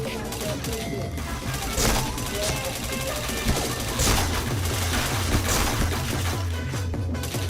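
Rapid gunfire from the PointBlank online shooter game, dense continuous bursts of shots and impacts that run loud throughout with a few sharper cracks, and a voice speaks faintly beneath the shooting.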